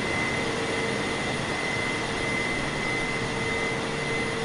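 Steady, even roar of Boeing 747-8i jet engines in MS Flight Simulator 2020 on an approach into snowy Oslo Gardermoen, a continuous broadband drone with faint tonal whine and no talking.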